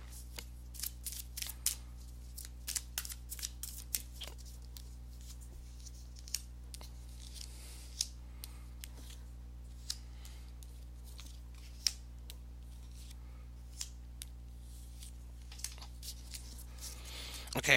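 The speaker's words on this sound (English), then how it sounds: "let me go ahead and give these cards a shuffle" Tarot cards being shuffled by hand, a close, quiet run of crisp flicks and riffling snaps at an irregular pace, repeating over many seconds with little else around.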